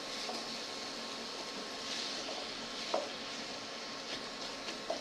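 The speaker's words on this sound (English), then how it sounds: "Okay, so carrots in. Let's give this a stir." Carrots stirred in an oiled pan on limited heat: a soft, steady sizzle with a few faint scrapes and taps of a utensil, quiet and close.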